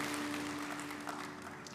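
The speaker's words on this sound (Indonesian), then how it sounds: "Berikan tepuk tangan yang meriah untuk Tuhan kita." Congregation applause during a church sermon, a brief, soft wash of clapping heard at some distance over a steady low hum in the room.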